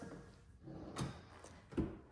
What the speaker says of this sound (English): It has these soft close drawers